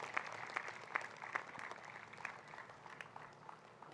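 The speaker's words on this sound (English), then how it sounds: "Let's clap for Dr." Applause from the audience at a convocation, a moderate ripple of claps that starts crisp and distinct and thins into a softer, scattered patter as it fades.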